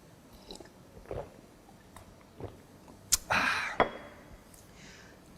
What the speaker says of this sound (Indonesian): Seruput kopinya dulu.